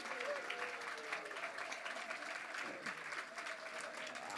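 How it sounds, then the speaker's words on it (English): Steady applause from an audience at a Jain community cultural program during Paryushan, a dense continuous wash of many hands clapping, fairly distant and even throughout. "Give him a round of applause."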